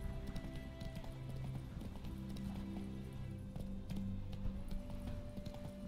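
Roach, a horse in The Witcher video game, gallops with quick, rhythmic hoofbeats and a short whinny over a low ambient game soundtrack.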